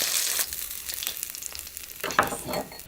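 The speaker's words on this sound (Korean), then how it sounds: "노릇노릇하게 앞뒤를 구워주시면 돼요." Semi-dried pollock (kodari) pan-frying until golden on both sides: a steady close sizzle of frying fish, with brief stirring and scraping movements in the pan.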